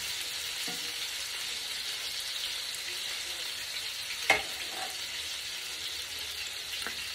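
Salisbury steak sizzles steadily in a hot pan as it browns, a continuous bright frying hiss with one sharp clatter midway, likely from the meat being flipped.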